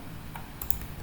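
A few quick computer keyboard shortcuts tapped in AutoCAD: a handful of sharp, close key clicks in a short burst over quiet room noise.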